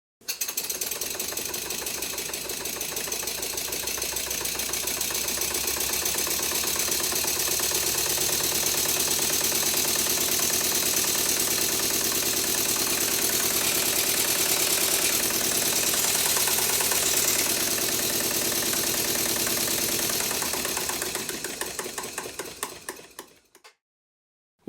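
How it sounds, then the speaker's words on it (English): A Stuart Twin Victoria model steam engine running on compressed air keeps up a fast, steady mechanical chuffing with a slight knock, loud and close for about twenty seconds before it winds down and stops. "Well, it seems to run and it's knocking a bit"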